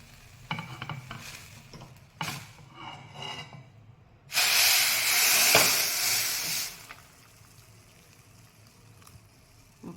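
Freshly boiled water is poured over two cups of dry soya chunks in a home kitchen, a loud hissing, splashing rush lasting about two seconds after a few light clinks, with no talking.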